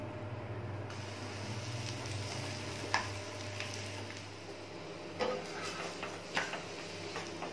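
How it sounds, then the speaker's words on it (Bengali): Onion paratha made with onion and green chilli in the dough, frying in a pan: a soft, steady sizzle throughout, broken by a few light clicks and taps of cookware. "সুন্দর এক এক করে ভাজা হয়ে গেল পেঁয়াজের পরোটা"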